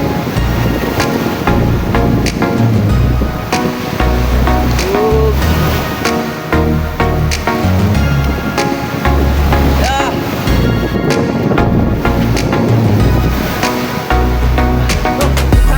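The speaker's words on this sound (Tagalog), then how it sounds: "Ayan mga alon mga idol, laki." Big ocean waves washing and crashing against a fishing boat at sea, a constant loud rush with wind buffeting the microphone and engine-like rumble underneath, with people talking over it.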